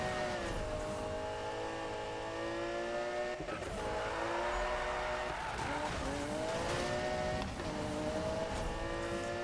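A car in the racing video game Need for Speed (2015) roars continuously with a high, revving engine tone that rises and dips through gear shifts, joined by tire squeal and skidding through turns, loud and steady without talk.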